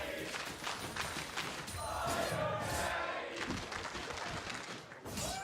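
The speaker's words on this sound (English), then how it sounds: "I'm going to let the crowd take this one." A large esports arena crowd at a League of Legends pro match roars and cheers in a sustained, dense wave that swells and rolls on for several seconds.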